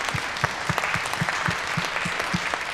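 Conference attendees at a Parkinson's event applaud the organizers, a steady, moderately loud round of clapping with distinct individual claps standing out, carrying on evenly throughout.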